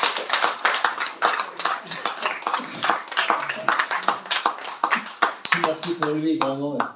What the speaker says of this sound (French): Je pense qu'on peut applaudir Martial.